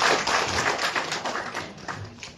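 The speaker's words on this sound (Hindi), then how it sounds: "आइए एक बार बहुत शिष्टाचार भरी तालियों के साथ माननीय मंत्री जी का यहाँ पर" Dense, fairly close applause from an audience welcoming a minister at an official meeting in Una, a rapid patter of many hands clapping continuously and fading slightly toward the end.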